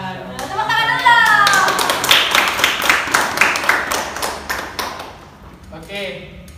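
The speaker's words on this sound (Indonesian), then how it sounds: "Tepuk tangan dulu." Students in a classroom clap briefly for a classmate, a scattered, quick burst of handclaps over and after a speaking voice, tapering off before the voice returns.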